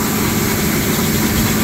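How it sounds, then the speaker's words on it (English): A tractor engine idles steadily while running a grain auger off its 540 PTO shaft during harvest, a loud, continuous low rumble with no talking. "Pretty nice auger tractor,"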